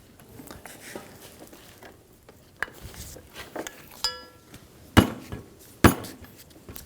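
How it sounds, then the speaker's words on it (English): Flat-blade screwdriver prying a dust seal out of an old steering knuckle from a 2005-2015 Toyota Tacoma: sparse metallic scrapes and clicks building to a few sharp, ringing knocks, close up and otherwise quiet. "Using a flat blade screwdriver, we're going to get under this dust seal and pop it out of the old assembly."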